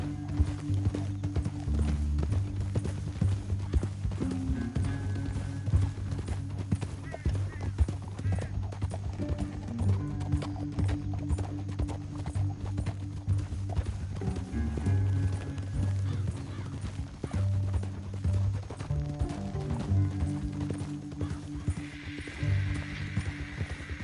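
Steady clip-clop of galloping horse hooves in a PS4 video game, loud and continuous, with an occasional whinny, set against a low droning musical score and game-style effects.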